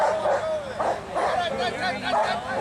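A dog barks and yips repeatedly in quick bursts, close and loud, over a busy background of voices.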